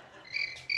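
A cricket indoors chirping in quick, high, bright trills, two short bursts close together, fairly faint against a quiet room with no talking.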